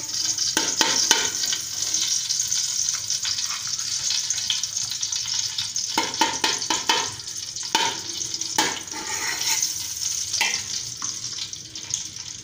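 Ghee sizzling in a hot pan while an Onam dish for Kerala is cooked, a continuous bright crackling hiss with bursts of spattering and spoon scraping, no voices.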